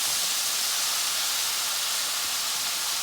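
Butternut squash pieces sizzling in a hot pan for a Guyanese dish, a steady loud hiss with no pauses or other sounds.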